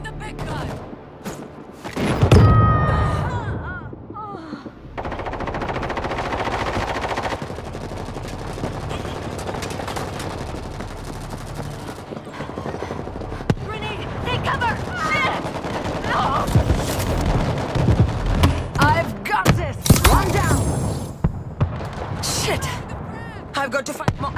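Heavy weapon firing in the World War Z video game, with loud sustained bursts of automatic gunfire and thumping impacts. Voices call out and grunt over the shooting.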